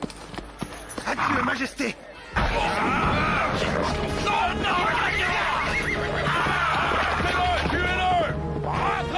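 A horse whinnies loudly amid the clatter of hooves and crashing noises, with people shouting over it in a dramatic scene.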